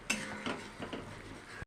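A spoon scrapes and taps softly in a pan as chili powder and cumin powder are stirred into a spice mixture for a tangra fish curry. The scrapes are faint, close and irregular.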